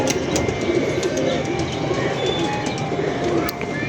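Pigeons kept by a pigeon fancier coo continuously and fairly close, a steady bird murmur with a few sharper calls and handling noises over a constant background.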